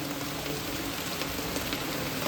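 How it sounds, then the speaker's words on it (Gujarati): Heavy rain pours down with some wind outdoors, a dense, steady hiss that stays constant and fairly loud throughout, with no talking. "અત્યારે મિત્રો ફૂલ વરસાદ પડી રહ્યો છે"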